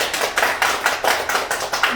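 A crowd at the second Sinchon Concert of the Sinchon culture school claps together in a quick, regular rhythm, each clap sharp and close, with roughly eight strokes in two seconds and almost no talk.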